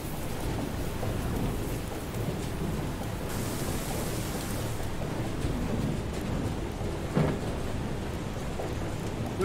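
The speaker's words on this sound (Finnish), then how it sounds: "Myrsky." A thunderstorm in the video game FAR: Changing Tides, steady heavy rain hissing across a surface while a low thunder rumble rolls beneath, close and continuous with one sharper crack late on.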